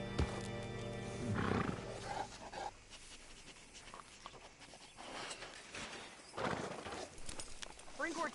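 Horse hooves clopping in Red Dead Redemption 2 as a rider brings the horse to a hitching post, faint steps and snorting mixed with ambient game sounds and speech.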